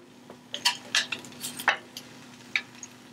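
Marinated chicken thighs being flipped in a pan, a handful of sharp metallic clinks and scrapes of a utensil against the pan over a quiet background, close and separate hits spaced irregularly.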